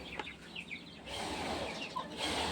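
Farm chickens cluck in short bursts while being fed, with scattered calls over a steady rustling background that grows louder partway through.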